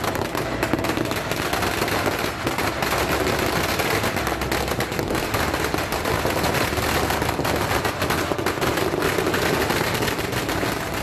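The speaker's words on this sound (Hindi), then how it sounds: "कहीं पटाखे फूट रहे हैं," Firecrackers burst in a celebration as a dense, continuous crackle of rapid pops, loud and steady throughout, with no speech.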